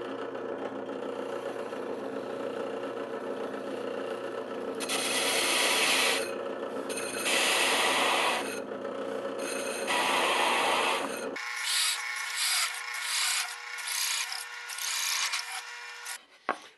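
Hole saw on a drill press cutting through a clamped wooden base, giving a loud, steady grinding rasp in long bursts that changes pitch partway through as the cutter breaks through, with no talk.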